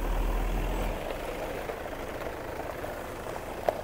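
An overhauled Toyota Fortuner engine runs at a steady low rumble. Near and continuous, it has a brief sharp tick near the end and no talk.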